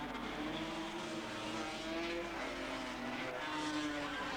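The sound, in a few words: Suzuki 250 production motorcycles racing at Cemetery Circuit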